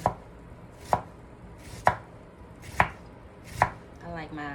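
A knife cuts through an onion on a board, giving five evenly spaced, crisp chops about a second apart, close and distinct over a quiet background, followed by a brief rustle of the onion skin being handled.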